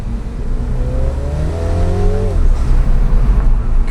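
A 300 BHP Mini JCW engine revs up hard from inside the car on a UK road, a loud droning note climbing in pitch and then dropping back as it shifts, under steady road roar.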